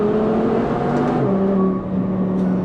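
A supercharged 750 hp Audi R8 V10 with its exhaust valves closed accelerates hard nearby, a loud engine roar carrying a thin, rising supercharger whine.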